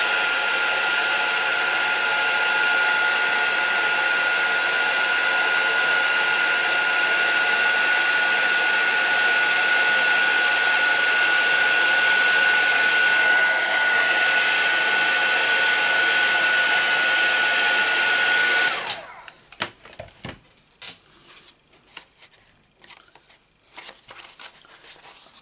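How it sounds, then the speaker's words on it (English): A heat gun blows hot air steadily and loudly for card crafting, a constant rushing hiss that runs unbroken for about nineteen seconds, then cuts off, leaving faint handling noises. "Heat gun,"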